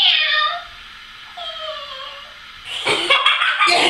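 A person's voice imitates a cat meowing in drawn-out, wavering cries, followed by a short burst of laughter nearby.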